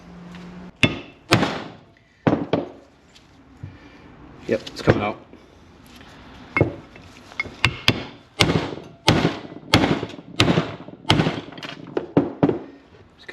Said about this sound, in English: Let's get the big hammer.